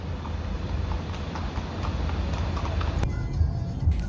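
Racehorses' hooves clip-clop steadily on the ground at Newmarket on a race-day morning, a moderately close, continuous trotting rhythm with a louder pair of strikes near the end.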